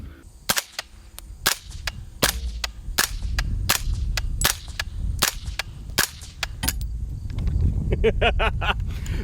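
Rifle fitted with a DNT Optics Thermnight multi-spectrum digital sight fires a rapid series of a dozen or more sharp, loud gunshots in an uneven rhythm, with some rustling and a few quieter clicks near the end.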